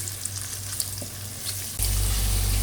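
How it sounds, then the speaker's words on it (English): Yogurt with powdered spices cooking in a karahi over a low flame, a continuous soft sizzle and fry that grows louder and steadier partway through, with no talking. "add your yogurt with all the powdered spices in, and cook it on a slow flame."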